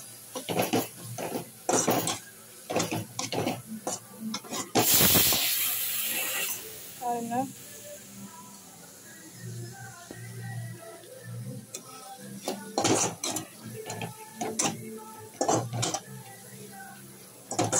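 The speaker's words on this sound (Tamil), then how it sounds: "போட்டு நம்ம நல்லா மிக்ஸ் பண்ணி விட்டுக்கலாம்." A spoon stirs and scrapes rasam masala with chilli and coriander powder in a pan, with irregular clinks and taps, a loud burst partway through, and occasional speech in between.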